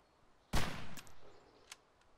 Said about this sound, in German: Knie dich mal hin und knall ihn ab.